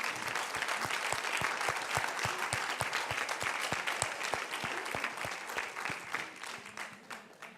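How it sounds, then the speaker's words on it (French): Sustained audience applause after a student film presentation at an arts education event, dense steady clapping from a large crowd that continues evenly throughout with no talk. "je crois qu'on peut vraiment les applaudir très très fort"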